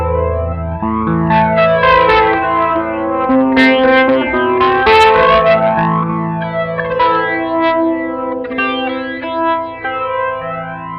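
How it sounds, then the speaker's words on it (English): Guitar played through the flanger effect of a Mosky Tone Makestation multi-effects unit, sustained chords with a sweeping, whooshing comb-like swirl rising and falling throughout, loud and close with no talking. "Here's the flanger."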